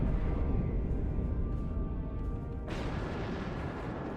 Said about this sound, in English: The planet killer! Oh no! Oh no! Kaboom!